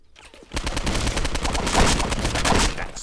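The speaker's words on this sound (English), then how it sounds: "He got a shotgun." Shotgun fire in the Postal 2 video game rings out in a loud, rapid barrage of overlapping blasts, close and dense for almost the whole clip after a short quiet start.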